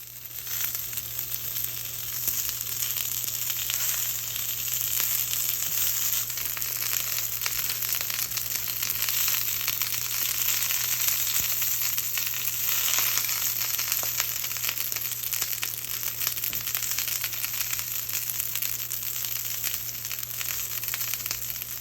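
Eggplant for a miso eggplant dish sizzles steadily in a hot frying pan, a continuous, even crackle running alone at close range throughout.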